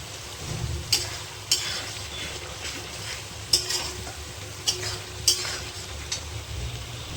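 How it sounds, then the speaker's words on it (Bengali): Spice masala stir-fried in a pan for aloo dum, a steady low sizzle with sharp scraping and clinking spoon strokes against the pan every second or so, close and moderately loud, with no talking. "আর একটু ভালো করে কষিয়ে নেব যাতে এর কোনো কাঁচা গন্ধ না থাকে।"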